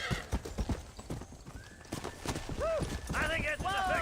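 Horse hooves clip-clop steadily up close in the Red Dead Redemption video game, a quick trotting rhythm running throughout, with a whinny breaking through near the end while people talk over it.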